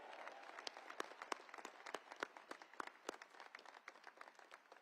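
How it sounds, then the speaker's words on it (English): Audience applause at a US Air Force Academy commencement ceremony, a sustained round of many hands clapping with sharp individual claps standing out, moderately distant and without speech. "Round of applause for all of them."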